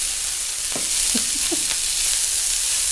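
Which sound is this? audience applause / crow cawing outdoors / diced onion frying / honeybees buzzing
diced onion frying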